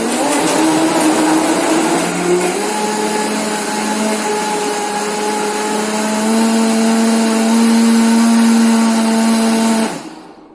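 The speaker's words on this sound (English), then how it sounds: "Just blend until smooth." A blender whirs steadily for about ten seconds, loud and close, as it purees a vegan pumpkin pie smoothie with ice, its motor pitch climbing slightly midway before cutting off abruptly.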